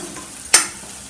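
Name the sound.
stirring turmeric into frying tomato and onion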